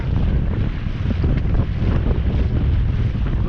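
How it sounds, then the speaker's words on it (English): Strong wind blowing across the water on a morning tailor fishing trip on the Swan River, a loud continuous rumbling buffet on the microphone with waves slapping beneath, no talk. "A little bit windy this morning."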